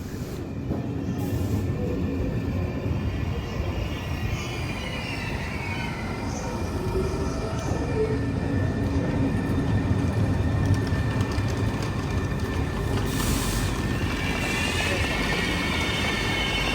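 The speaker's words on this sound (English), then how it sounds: "This is my train." A passenger train rumbles steadily nearby, a continuous loud low roar with faint squeals and rattling carriages, no voices.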